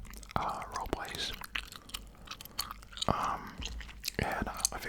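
Gum being chewed close to the microphone in an ASMR setting, wet smacking and clicking bursts at an irregular rhythm, interleaved with soft whispered talk.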